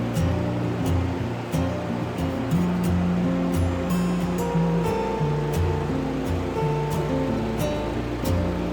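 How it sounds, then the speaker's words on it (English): A small but high-powered electric fan runs in the corner of a small room with two windows, giving a steady, close whooshing drone with faint regular ticks throughout. "I have a small fan here in the corner. It's pretty high powered, but it's just a little fan."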